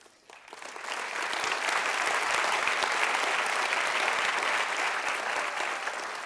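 A seminar audience applauds at the close of a lecture on antibiotic-resistant infections, swelling quickly from near quiet into steady, dense clapping from many hands that holds to the end.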